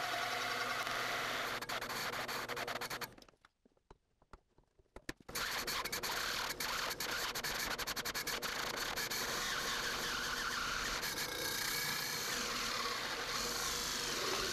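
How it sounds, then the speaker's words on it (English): A dull hole saw burns through wood by friction, giving a loud, continuous grinding rub that cuts out for about two seconds midway and then resumes just as harsh. "I used a hole saw to burn with friction through the wood."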